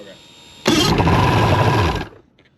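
A Mercury 2.5L EFI outboard motor starts after a hot soak: a faint crank, then a loud roaring burst of engine noise for about a second and a half before it cuts off abruptly and dies away.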